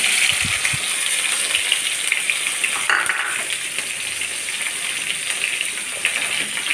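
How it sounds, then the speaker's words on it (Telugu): Chopped onions added to oil after garlic sizzle and fry in a pan for a tomato curry, a steady broadband crackle and hiss throughout with a brief stirring scrape near the middle, close and fairly loud, no talk. "ఆనియన్స్ ఇలా ఫ్రై అవ్వాలండి,"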